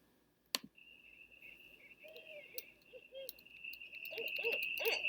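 An owl hoots in a short series of soft, low calls over a steady shrill insect drone, with a sharp click near the start and the hoots growing denser toward the end.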